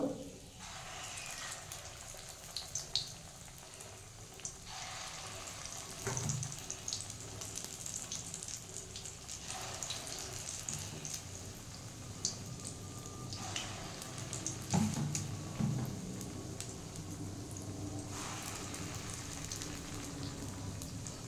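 Coriander and masoor dal pakoras frying in hot oil give a steady, close crackling sizzle that runs throughout with no talking, swelling and easing slightly as batches cook.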